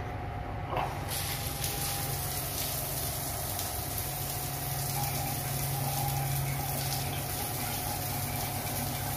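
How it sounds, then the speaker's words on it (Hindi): Water runs steadily from a shower tap mixing hot and cold supply, a constant close hiss and splash that continues without pause. "इसको भी हम खोल देंगे ना, तो दोनों का मिक्स पानी आ जाएगा सावर के अंदर"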